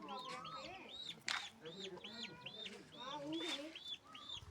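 A chicken keeps clucking near a small chick that peeps in a steady run of high, bent calls, all soft and close, with a brief rustle partway through.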